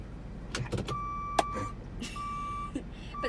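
A Ford Transit XLT 350 van emits reversing warning beeps, a few sustained electronic tones repeating at intervals over quiet cabin noise with occasional clicks.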